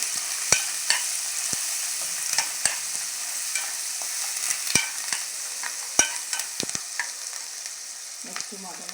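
Mutton curry masala with mint and curry leaves stirred and frying in a pan, a steady soft sizzle punctuated by sharp clicks and scrapes of the spoon against the vessel, close and moderately loud, no voices.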